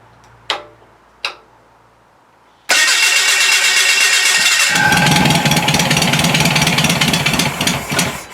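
A Volkswagen engine mounted on a mobile dimension sawmill: two sharp knocks in near silence, then the starter cranks and the engine catches into a loud, steady, close idle with a rhythmic rattle, no voices.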